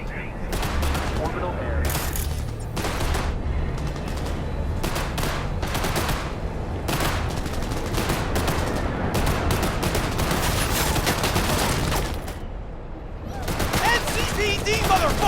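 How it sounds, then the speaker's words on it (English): Gunfire trades back and forth in a firefight in the video game Cyberpunk 2077. Bursts of automatic fire and rapid shots hammer on and off for the whole stretch, with a brief spoken line in between. "Exchanging fire!"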